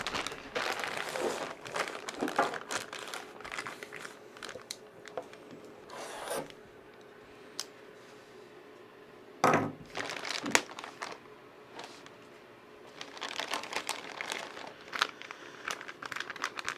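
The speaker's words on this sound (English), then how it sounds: "Let's go ahead and open this bag up." A plastic parts bag from a Tekno SCT410SL RC truck kit is opened, giving bursts of crinkling and rustling that come close and fairly loud, with quieter handling gaps between them and no talking.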